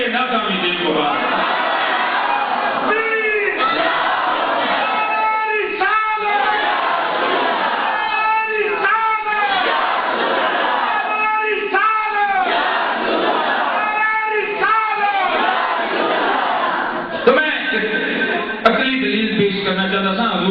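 A large crowd chants slogans in loud, repeated unison bursts at a religious gathering, with the rhythmic shouts rising and falling steadily throughout.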